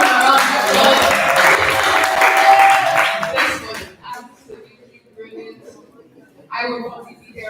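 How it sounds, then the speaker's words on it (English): Loud applause from an audience claps steadily for several seconds, then stops abruptly, leaving quieter murmurs and a brief burst of sound. "can you please give a round of applause?"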